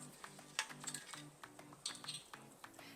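Cut vegetables are tossed in avocado oil in a bowl for sheet-pan roasting, giving soft repeated clinks and rustles of pieces shifting against the bowl. The sound is quiet and close, with no talking.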